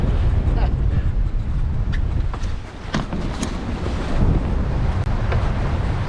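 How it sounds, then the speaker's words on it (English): Big waves, roughly three feet, slap against a 20-foot Norfolk Gypsy sailboat as strong wind roars steadily across the microphone, with no talking. "The waves are getting really quite big, at least for me."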